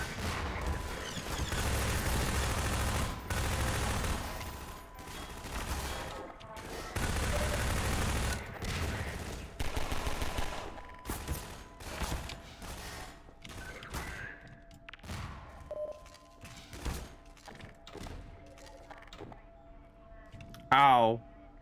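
Gunfire in Half-Life 2: bursts of rapid shots fill the first ten seconds, then sparser single loud cracks and impacts follow, with a voice talking intermittently over the game sounds.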